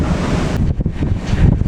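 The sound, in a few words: wind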